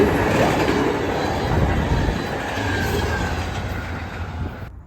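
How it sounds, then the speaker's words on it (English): Amtrak 72 passenger train passing through Kannapolis Station, a loud continuous rumble of wheels on rail with faint clickety-clack and a thin squeal, close by and steady throughout. "First up, we have Amtrak 72"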